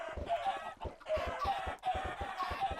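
Minecraft chickens cluck in a dense, busy flock after a batch of thrown eggs hatch, repeated clucks and squawks overlapping with soft thumps throughout, fairly loud and with no talking.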